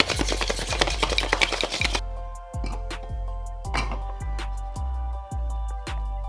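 Eggnog shaken hard in a cocktail shaker with a strainer spring inside: about two seconds of dense, fast rattling and sloshing, then it stops and a run of sharper, evenly spaced knocks follows over a faint tonal hum.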